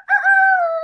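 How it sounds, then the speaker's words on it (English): A rooster crows once in a single long, loud, sustained call close by in the background of a class recording, steady throughout with no talk over it. "this recording has a freaking rooster"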